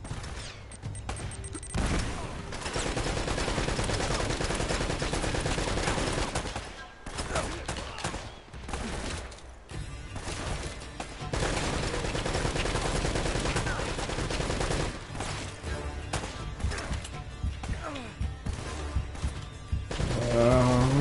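Sustained heavy automatic turret fire in Uncharted: Drake's Fortune, loud and continuous rattling bursts with a brief lull near the middle, no voices over it.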